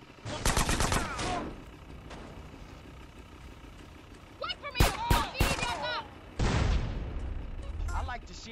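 Gunfire in GTA San Andreas during a car chase, with repeated bursts of rapid shots and loud bangs over engine and road noise, and shouting voices between the volleys.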